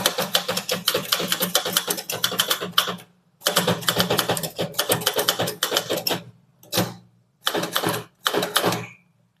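A typewriter clatters out a heading in rapid keystrokes: long dense runs of strikes, then shorter bursts separated by brief gaps, close and loud, with no voice over it.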